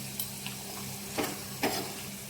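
Garlic cloves, curry leaves and turmeric tempering in hot oil in a pan, giving a steady low sizzle with two or three brief brighter stirring bursts, close and without voices.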